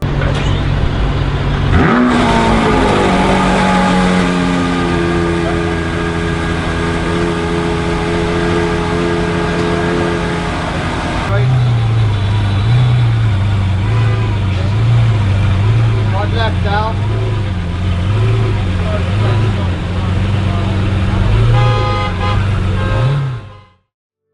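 A Lamborghini Veneno's V12 bursting into a loud cold start and settling to a high idle, then rising and falling through a series of sharp revs from its angular quad exhaust tips, close and dominant.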